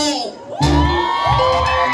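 A crowd at a gathering with performers bursts into loud shouting and cheering partway through, with children's shrill voices mixed in. The roar stays dense and close until the end.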